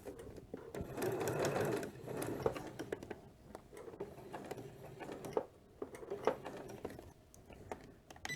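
A sewing machine stitches binding onto a quilt, running in a steady whirring burst near the start, then pausing and restarting in shorter runs as it approaches a corner, close and fairly quiet.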